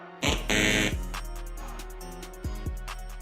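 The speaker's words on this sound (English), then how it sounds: "If the wrong checkpoint is hit, it will make a sound like this." Error tone from a security patrol app signalling a wrong checkpoint hit: a harsh electronic buzzer burst followed by a few softer repeated beeps over about three seconds.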